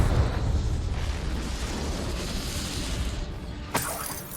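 Confringo fire spell detonating in the Hogwarts Legacy video game, a loud sustained blast of roaring, crackling broadband noise filling the whole clip, with a sharp burst near the end.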